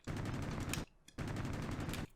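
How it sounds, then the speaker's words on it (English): Machine guns and cannon of a P-38 Lightning fighter in the B-17 The Mighty 8th flight game fire in two loud sustained bursts, each lasting nearly a second, separated by a short quiet gap with a faint click. "now I can fire my machine guns and the cannon again"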